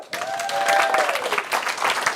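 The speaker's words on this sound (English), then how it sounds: "Can we give Jack a round of applause?" An audience at a talk gives a round of applause, a burst of many hands clapping that quickly builds and holds steady, with a brief voice at the start.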